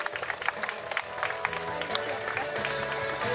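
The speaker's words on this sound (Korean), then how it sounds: "뜨거운 박수 함께 해주시기" A crowd applauding steadily for a few seconds while a voice speaks over the clapping, at a ceremony at Seoul's Memory Site honoring comfort women.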